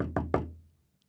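Three firm knocks land on a door in quick succession, close and dry, with the last knock ringing out briefly before silence.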